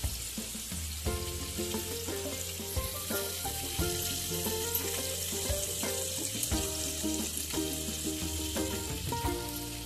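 Fish frying in a pan over a medium gas flame for a crispy fish fry, a steady dense sizzle running throughout with clinks and scrapes of cookware, close and fairly loud, with no talking.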